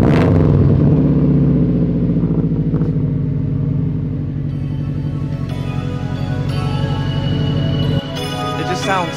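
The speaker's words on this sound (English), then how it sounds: "we're gonna give you a nice little cold start on the WRX." A Subaru WRX engine cold starting, a loud close burst at ignition settling into a rough, pulsing high idle with a steady burbling exhaust, a slight change near the end.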